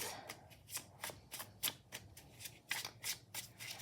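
Tarot cards shuffled by hand, a quick run of soft riffling bursts in an uneven rhythm, close and quiet with no talk.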